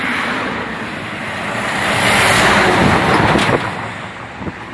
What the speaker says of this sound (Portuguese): Aqui é muito barulho, né? O veículo toda hora